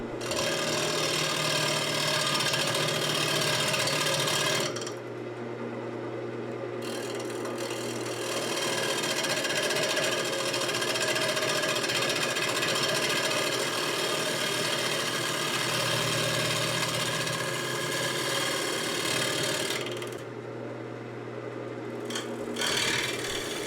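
A walnut bowl blank spins on a wood lathe as a turning tool rounds it, giving a continuous rough scraping and rubbing hum with steady motor drone; the cutting eases briefly a few times, with no talk.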